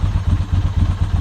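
A 1997 Ducati 916 motorcycle idling after the choke is taken off, with a loud, close, lumpy low thudding beat that pulses steadily and unevenly, heard alone.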